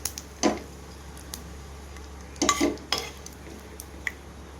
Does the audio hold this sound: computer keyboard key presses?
no